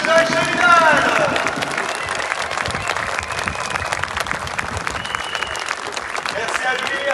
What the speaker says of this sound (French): On peut faire un tonnerre d'applaudissements